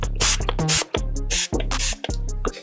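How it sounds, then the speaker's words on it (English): Several short bursts of a spray bottle spraying anti-fog cleaner onto a car windshield in cold weather, hissing in quick succession with brief pauses between pumps. "I'm gonna go ahead and spray on the stuff"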